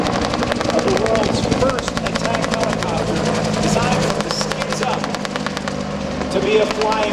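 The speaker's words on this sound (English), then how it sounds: "That Bell helicopter was known as the AH-1 Cobra, a two-seat attack helicopter" A Bell AH-1 Cobra two-seat attack helicopter flies over an air show during a Vietnam battle reenactment, its rotor beating a rapid, steady thudding chop with engine whine, while an announcer talks over it.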